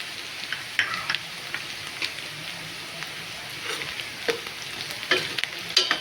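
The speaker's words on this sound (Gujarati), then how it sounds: "તો ડુંગળી અને લસણ બરાબર તેલમાં સતરાઈ ગયા છે।" Onion, garlic and peanuts frying in hot oil for a dhaba-style Kathiawadi gathiya curry, a steady close sizzle broken by scattered sharp crackles and brief stirring scrapes, with no talking.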